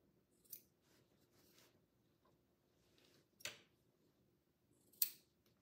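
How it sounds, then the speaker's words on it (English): Scissors snipping warp threads off the end of a rigid heddle loom, three quiet separate cuts spaced a couple of seconds apart in a hushed room. "we're going to cut these off so I can get it through the"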